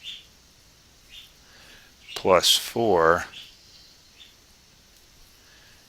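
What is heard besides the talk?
birds chirping in the background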